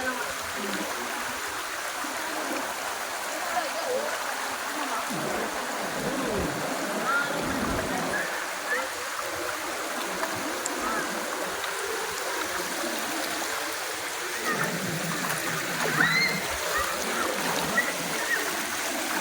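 Clear river water runs under the Tarapiche Bridge with a soft, constant burble and small splashes, while people talk nearby.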